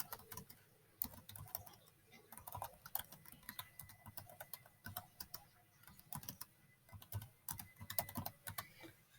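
Quiet, steady typing on a computer keyboard, rapid irregular key clicks with no talking.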